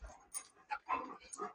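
A dog pants and plays in short, uneven bursts of breathy huffs and small whimpers, close and fairly faint, during a playful dog play day at home.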